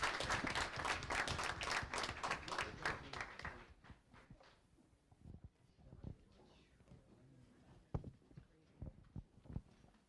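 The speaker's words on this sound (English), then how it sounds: "One more round of applause for the Snow Hill High School student athletes." Audience applause for high school student athletes fills a board of education meeting room, starting as dense, loud clapping for a few seconds, then thinning to scattered, fainter claps with some voices around.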